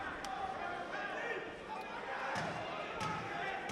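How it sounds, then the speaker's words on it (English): Wooden knocks marking the final ten seconds of a round at a Southern Area super lightweight title boxing bout: several sharp, separate raps under steady crowd noise and commentary. "I bet he's glad to hear those knocks of the final 10 seconds"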